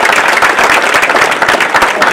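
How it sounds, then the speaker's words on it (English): Loud, dense applause from a hall of fame induction audience in a high school athletics ceremony, steady clapping filling the whole clip without letup. "big round of applause."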